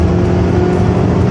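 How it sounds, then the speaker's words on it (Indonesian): Honda HR-V at speed on a toll road, with steady loud tire roar and engine drone filling the cabin in a continuous, even rumble. "ini suara ban, suara mesin itu lumayan masuk"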